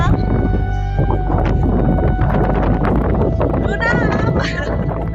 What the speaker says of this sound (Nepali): भयंकर हावा चलिरहेछ